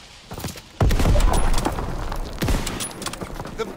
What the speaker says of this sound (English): I'm throwing a grenade and hopefully I'll fucking hit.